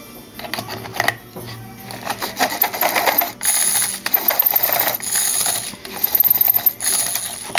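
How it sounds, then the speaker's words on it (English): A Lee Zip trimmer cuts brass cartridge cases, giving repeated metallic scraping and clinking bursts with small rattling strikes, close and uneven in rhythm. "Now with the Lee Zip trimmer, you can also use this to trim your shells."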